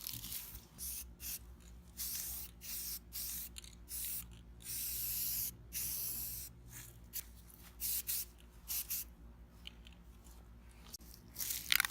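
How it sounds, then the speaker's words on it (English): An aerosol can of semi-gloss protective enamel hisses onto a Jeep tire carrier in repeated bursts, short and long sprays separated by brief pauses, close and fairly quiet with a faint background hum. "I got some of this semi-gloss protective enamel, and I'm going to spray it on here now."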